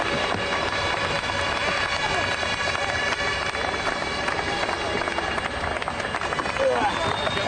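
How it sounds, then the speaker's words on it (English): A large crowd at a Champ Car race at Lausitz in 2003 roars continuously and loudly, a dense wash of cheering and shouting that stays level throughout. "Listen to this crowd."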